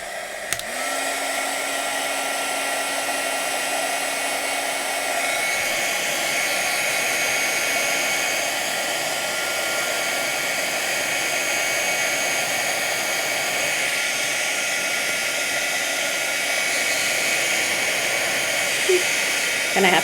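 An embossing heat tool blows steadily across a stamped Halloween card, a loud continuous whooshing hiss with a rising whine as it starts, running alone at close range for the whole stretch.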